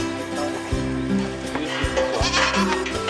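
A goat on a farm bleats several times close by, short wavering cries spaced over a few seconds with faint background noise and no clear talk.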